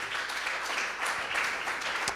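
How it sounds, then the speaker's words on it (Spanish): Church congregation applauding during a worship service, a steady wash of clapping that holds at moderate level for a couple of seconds without speech over it. "Un aplauso fuerte para Él"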